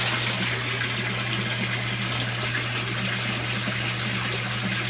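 Water from a daphnia culture tank drains steadily through an adjustable pipe in a constant, full rushing gush, close and even throughout with a low hum underneath.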